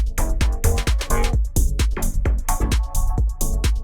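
A tech house drum loop with a clap sample following the snare pattern hits in a quick steady groove, loud and punchy over kick and hats, with no talking.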